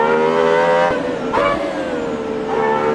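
A car engine revs hard with a strained, harmonic whine, dropping sharply between blips and climbing again, loud and close throughout.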